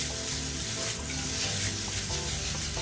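Paneer sizzles steadily in oil in a pan on low flame while being stirred, a continuous close frying hiss with faint scraping throughout.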